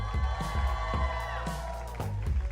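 A live awards-show audience cheers and whoops for the judges, a steady crowd roar with scattered shouts and claps rising and falling throughout, no speech over it.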